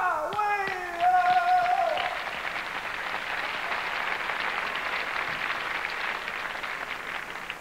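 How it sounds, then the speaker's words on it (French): Applause from an audience swells and continues as a dense wash of clapping, following a brief sung or held vocal note at the start. "Alors, mesdames et messieurs, on l'applaudit."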